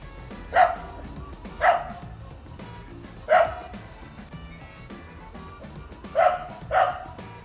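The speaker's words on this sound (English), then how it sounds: "Some crazy dogs. They think squirrels" A dog barks five times in short, separate bursts, with irregular gaps and a pair close together near the end, fairly close against a quiet background.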